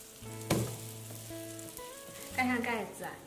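A flipped scallion breakfast pancake cooks in an electric griddle, giving off a faint, soft sizzle with a few brief louder crackles and a steady tonal background.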